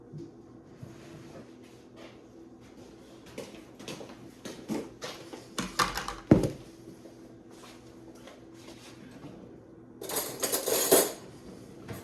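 A spoon clinks and scrapes against a bowl while flour is stirred into potato pancake batter, a run of irregular close taps and rattles with a louder burst of clatter near the end.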